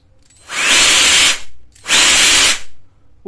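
A Makita cordless 20V LXT jet fan turbo blower runs with its casing removed, giving two loud, harsh bursts of rushing air and whining motor, each about a second long with a short gap between.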